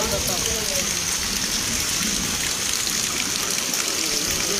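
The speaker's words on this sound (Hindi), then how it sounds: "यहाँ तो बहुत बारिश है।" Heavy rain pouring in Patna, a dense continuous hiss of drops striking surfaces with a steady, even loudness, while a voice talks faintly underneath.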